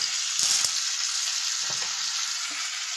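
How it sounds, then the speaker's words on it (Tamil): Ginger, red chillies, shallots and tomato sizzling in hot oil, a bright continuous frying hiss with a few brief clatters of a spoon stirring the pan. "இதை இப்போ நம்ம எல்லாத்தையுமே போட்டு வதக்கிடலாம்"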